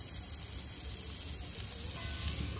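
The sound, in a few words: onion frying in a pan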